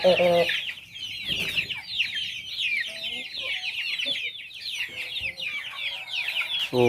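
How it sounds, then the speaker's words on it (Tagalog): Free-range chickens and chicks cluck and peep steadily close by, a dense layer of high chirping with occasional lower clucks running throughout. "ito na po yung mga sisiyo ng mga chicken, no?"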